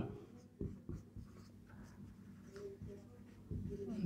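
Pen strokes scratching out a maths solution on paper, close and soft, in short uneven bursts with brief pauses between them.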